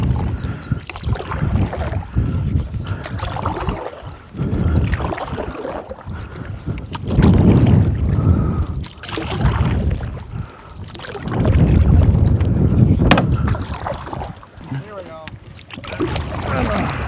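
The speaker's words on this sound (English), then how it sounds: "the wind has picked up" A strong headwind blows over the Ahnapee River during a canoe trip. Loud, steady roaring gusts buffet the microphone and swell and ease over the whole stretch, mixed with faint paddling and water noise from the canoe.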